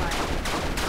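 Robot spiders in a Spider-Man game let off a quick pair of loud gunfire bursts, close and harsh, in under a second.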